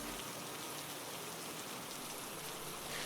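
Heavy rain in a cartoon pours down in a dense, constant hiss of drops striking a surface, loud and unbroken.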